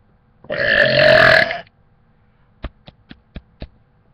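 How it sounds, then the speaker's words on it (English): One loud, drawn-out burp close to the mic, lasting about a second, followed by a quick series of five sharp taps or knocks. "I'm gonna do a little burp for you so I get famous"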